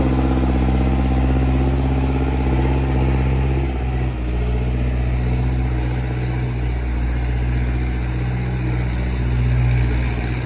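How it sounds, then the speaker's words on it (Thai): A loud, steady farm tractor diesel engine rumbling at a constant idle, close by, with a deep throbbing low end and no talking. "นี่ครับ รถไถดีมาก"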